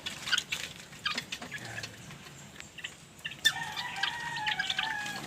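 Young chicks peep in a short, high chirping series that becomes denser near the end, faint and close, over light rustling and no speech.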